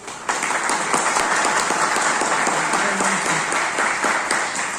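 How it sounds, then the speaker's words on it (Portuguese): A seminar audience on faith and religious studies gives a round of applause, loud continuous clapping that starts abruptly and holds steady to the end, with a faint voice briefly underneath. "Uma salva de palmas."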